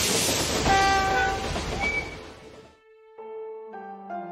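Train rolling along rails in a Switzerland-bound journey within an adventure video game, a dense rumbling ride that fades out, followed by a few clear whistle-like tones alone.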